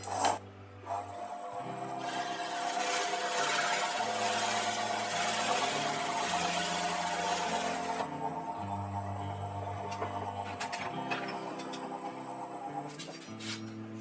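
Drill boring a 15/16-inch recess into a turned laurel leaf willow wooden bowl, a steady whirring drone with shifting pitch running for many seconds at close range.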